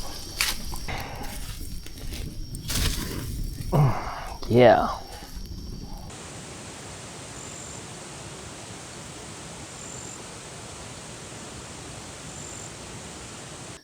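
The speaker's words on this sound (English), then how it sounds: "Time to chuck some fish on the frying pan and fry it up in some butter." Barramundi fries in butter in a frying pan at a Cape York bush camp. A brief spoken word comes first, then a steady, even sizzling hiss runs close and constant for the rest.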